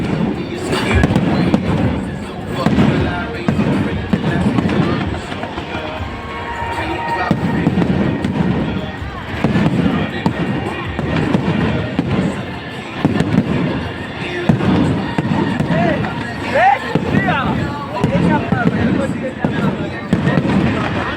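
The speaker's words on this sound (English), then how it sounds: "Enjoy the fireworks, enjoy the moment, enjoy this wonderful occasion" Fireworks at a large event explode in repeated loud bursts and crackles over a busy crowd, while a voice speaks over a loudspeaker throughout.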